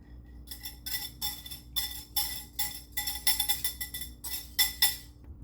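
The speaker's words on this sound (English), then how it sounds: "Now I'm just going to mix my wet ingredients in with my dry." Rhythmic clinking and scraping of a utensil against a bowl as wet ingredients are stirred into dry for old-fashioned cake donut batter, in repeated bursts, close and moderately loud, with no talking.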